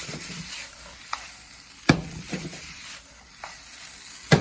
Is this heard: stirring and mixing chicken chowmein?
yes